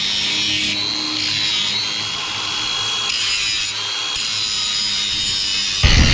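A power grinder works on a metal hinge, producing a steady, loud, hissing whine that holds at one level and shifts slightly in pitch, then ends in a sudden low thump.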